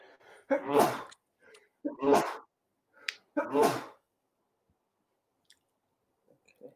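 A man sneezes close to the microphone during an online developer call. There are three sharp, loud bursts with short gaps between them, then near silence.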